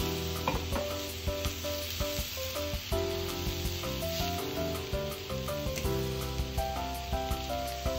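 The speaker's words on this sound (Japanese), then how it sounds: "肉を焼いたフライパンで漬け込んだ野菜を弱火でじっくり炒めていきましょう。" Marinated vegetables sizzling and frying slowly over low heat in a pan used earlier for ostrich meat, a steady close hiss with light stirring, under continuous background music.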